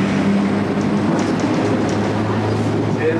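Steady rumble of a tram ride in heavy rain, a loud continuous interior drone with faint rattles, as people talk over it.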